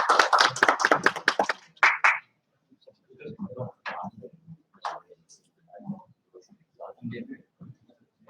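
An audience claps at a workshop session, a loud burst of applause that fades after about two seconds, followed by a lone voice talking.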